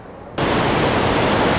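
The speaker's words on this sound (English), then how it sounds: "dramatic waterfall on the river here" Waterfall on the Potomac River at Great Falls, a loud, dense, steady roar of rushing water that cuts in abruptly after a brief quieter moment and holds unbroken.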